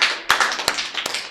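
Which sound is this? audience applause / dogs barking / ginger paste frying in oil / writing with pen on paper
audience applause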